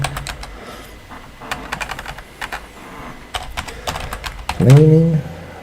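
Rapid keystrokes on a computer keyboard, close and fairly light, clicking in short irregular bursts, with a brief voiced sound near the end.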